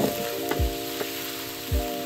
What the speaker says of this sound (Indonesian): Kita tumis dahulu daging ni.